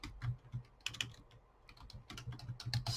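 Someone types on a computer keyboard in irregular bursts of soft, close clicks with a short pause in the middle. The keystrokes are faint and there is no talking.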